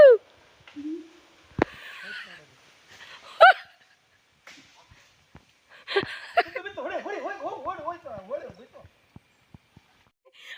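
A dog barks a few times and yelps amid scattered voices and laughter, followed by a run of wavering whimpering cries.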